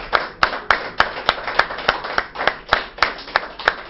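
Audience clapping for Miss contestants at a French anniversary variety show, with loud, fairly regular claps around three per second forming a rhythmic beat with some scattered applause underneath.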